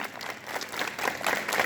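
Many students clap at a school morning assembly, a brief, dense wash of hand claps that grows slightly louder and fuller toward the end.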